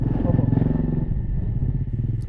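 A Suzuki SR motorcycle engine idles and putters steadily nearby, a low rumbling throb that continues throughout with slight clatter.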